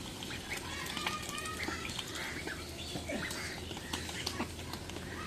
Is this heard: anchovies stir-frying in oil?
no